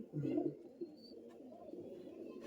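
Matras and Giribaj pigeons give a short, low cooing burst up close, followed by quieter murmuring coos.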